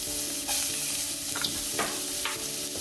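Minced shallots and root vegetables sizzle steadily in a pan as the base for risotto, with a few soft scrapes of stirring breaking through the constant frying hiss.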